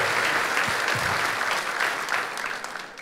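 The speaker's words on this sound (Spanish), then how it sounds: "Le damos un aplauso a todos nuestros amigos" Church audience members applaud their friends at a Sunday service, a dense, steady wash of clapping that swells slightly mid-way and tapers off near the end.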